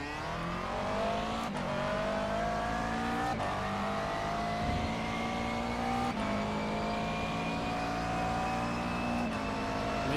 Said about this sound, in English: Let me just turn this engine noise down a little bit there.